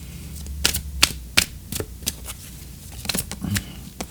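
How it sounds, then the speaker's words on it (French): An oracle card drawn from a deck during a sentimental reading: a run of crisp, close paper taps and flicks, some sharp and some softer, with brief pauses between them. "on va tirer une carte d'oracle"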